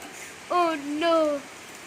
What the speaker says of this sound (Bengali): ঝড় হচ্ছে এখানে